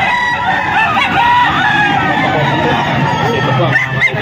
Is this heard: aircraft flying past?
no